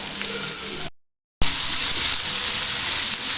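Vegetables sauté in a pan for a creamy white sauce pasta, giving a steady bright sizzle that cuts out briefly to silence and then resumes at full strength, with no talk.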